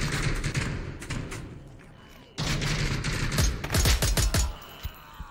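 Rapid covering fire from guns in the VR shooter Onward, heard as dense volleys and individual shots that pause briefly, then resume more strongly with sharp, close cracks and thuds.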